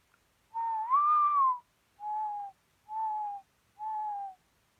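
Mourning dove calling alone in quiet surroundings, a first drawn-out coo that swells upward then falls, then three separate shorter coos at a steady spacing.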